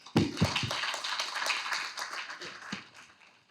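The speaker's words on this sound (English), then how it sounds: "I would like to clap for our MC brother" An audience at a business school convocation ceremony breaks into clapping, starting with a few sharp, distinct claps nearby and then filling in as a brief round that tapers off within a few seconds.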